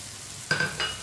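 Fried onions drop into a pan of sizzling cooked spices for masala bhindi, a soft sizzle rising with a brief stir and a couple of light clinks, fairly quiet.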